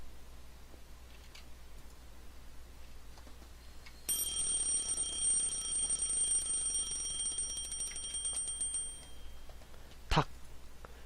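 A bright electronic alarm clock rings steadily for about five seconds in a video game, sharp beeping tones over a low background hum, ending with a single click.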